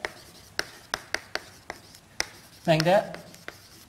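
Marker strokes on a board while an axis is drawn for a statistics lecture, a series of short sharp taps and squeaks followed by a longer drawn line, with someone speaking over it.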